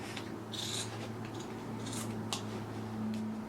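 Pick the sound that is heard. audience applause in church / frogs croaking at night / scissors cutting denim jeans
scissors cutting denim jeans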